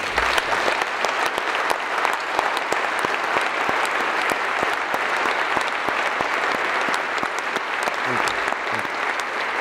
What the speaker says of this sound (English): stand up so we clap and say thanks